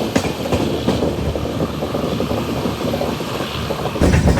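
A train runs at speed through Chikbanavara station without stopping, heard from on board the Humsafar Express as a loud, steady rumble with rhythmic clickety-clack of wheels over rail joints and a louder burst at the end.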